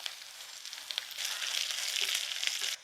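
Shallots, dried chillies and curry leaves fry in hot oil with a continuous, close hiss and crackle that swells louder partway through and then cuts off abruptly.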